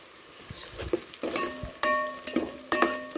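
Curry leaves dropped into hot oil, crackling and sizzling in sharp bursts, with a spoon stirring and scraping the pan nearby.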